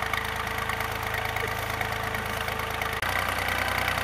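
A tractor engine idles steadily nearby with an even, low, knocking pulse that continues throughout, broken only by a momentary dropout near the end.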